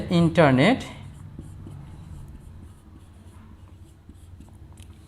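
Pen writing on paper during a spoken lesson, a faint steady scratching that continues softly after a brief burst of talk at the start.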